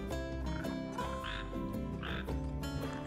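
Red frogs croak in the Final Fantasy XV video game, a steady layered chorus of repeated croaks over tonal game ambience, with no talking.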